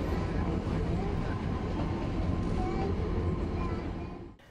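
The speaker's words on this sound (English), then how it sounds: "The train is lovingly called the Toy Train." The Nilgiri Mountain Railway toy train runs near Ooty in the Blue Mountains with a steady, loud rolling rumble and rattle that holds throughout, then drops away abruptly at the end.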